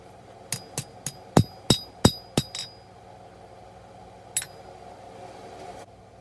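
Hammering the bevels of a small forged seax blade: eight quick ringing metallic blows in a steady rhythm, then a pause and a single further strike, loud and close.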